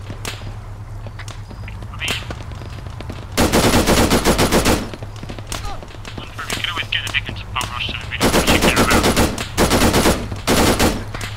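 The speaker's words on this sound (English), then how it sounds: "I appear to be getting shot at." Heavy automatic gunfire in Arma 3 erupts in two loud sustained bursts, with lighter scattered shots and rattling between them and another short burst at the end.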